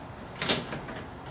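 Plastic interior door panel being slid back into place on a 1990 Mazda Miata door during restoration, giving one brief close rubbing thump in the middle of a quiet garage.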